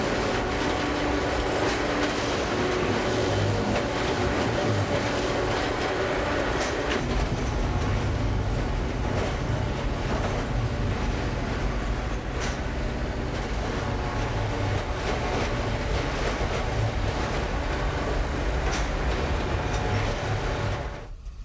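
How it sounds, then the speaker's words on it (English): A freight train rumbles steadily past at close range while track tampers and regulators keep working nearby, giving a continuous loud roar with rhythmic clatter and occasional sharp metallic knocks that fade slightly at the very end. "The end of the freight passes as the parade of tampers and regulators continues to work."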